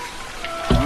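Splashing liquid pours down heavily like a downpour as a giant urinates over outlying fields, a rainy patter building to a loud, close gush near the end.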